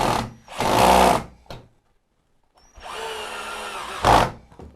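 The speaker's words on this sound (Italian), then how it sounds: "La voglio avvitare in questo modo, 4x50, senza preforo." Parkside PWBSA 12 A1 12V cordless angle drill driving a 4x50 screw into wood without a pilot hole: two loud whirring bursts of the motor, a pause, then a longer straining run that rises at the end.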